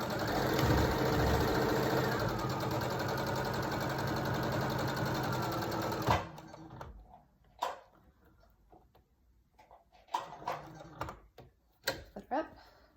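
A sewing machine stitches pleated face-mask fabric in a steady, close mechanical whir that runs for several seconds and then stops abruptly. A person then talks over quieter handling sounds.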